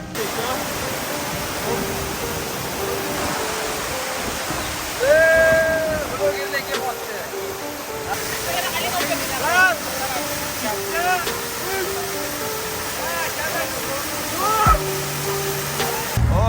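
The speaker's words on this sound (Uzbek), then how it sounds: "Aqsarsoy sharsharasiga yetib keldik." A loud, steady roar of falling water from the Aqsarsoy waterfall in Uzbekistan fills the scene throughout, with voices talking over it now and then.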